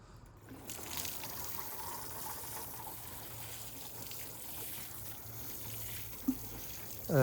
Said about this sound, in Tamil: தண்ணி விடும்போது கொஞ்சம் கொஞ்சம் விடுங்க